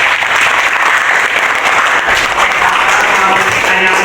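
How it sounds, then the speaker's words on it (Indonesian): Steady, dense clapping from a classroom audience, loud and continuous for several seconds without pause. "Kasih tepuk tangan sekali lagi."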